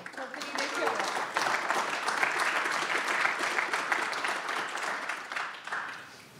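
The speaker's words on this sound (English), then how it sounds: "Let's give a round of applause to everyone." An audience at the MIT Bitcoin Expo 2019 welcome session applauds with steady, dense clapping for several seconds, softening at the end.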